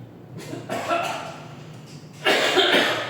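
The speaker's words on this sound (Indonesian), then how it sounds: "Lagi batuk." A person coughs a few times in short bursts, fairly close, with a stronger harsh cough near the end and quiet pauses between.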